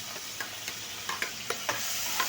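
Chopped onion and tomato sizzle steadily in hot oil for a mutton curry, with a constant frying hiss broken by several light clicks and scrapes of stirring.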